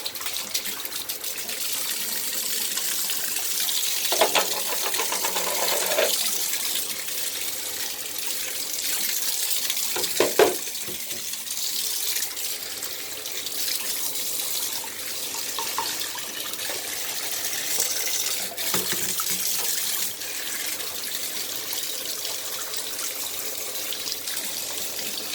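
Tap water runs steadily over vacuum cleaner parts being rinsed, a continuous hissing splash with occasional clunks and shifts as the pieces are moved under the stream.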